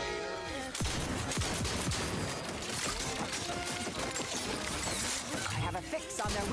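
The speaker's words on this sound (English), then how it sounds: "And this shotgun does a lot of damage from a distance." Shotgun blasts in The Outer Worlds 2 during a firefight, several sharp, loud reports punctuating a dense clatter of gunfire, impacts and mechanical noise, with voices faintly mixed in.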